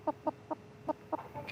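Hen clucking while being weighed at a vet visit, six short evenly spaced clucks close to the listener against a quiet room.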